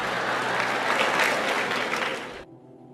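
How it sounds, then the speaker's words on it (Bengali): An audience claps together in a dense, loud, sustained round of applause that swells slightly, then stops abruptly, leaving near silence. "হাততালি থামাও"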